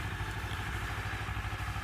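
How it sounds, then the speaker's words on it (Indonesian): A Honda CBR250RR 250cc motorcycle engine runs in a steady, even drone, close and continuous with no voices over it. "Baru kali ini saya naik motor 250 cc ya."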